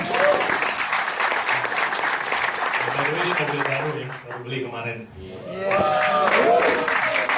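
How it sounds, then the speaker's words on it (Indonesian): A seated audience applauds at a business talk, dense clapping running steadily for several seconds while someone speaks over it, dipping briefly before swelling again. "kasih tepuk tangan sekali lagi dong"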